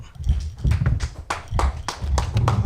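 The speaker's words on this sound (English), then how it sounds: "Clap it up." Several people clap in short, uneven bursts with heavy low thumps at a Sabbath service class, the claps close and loud.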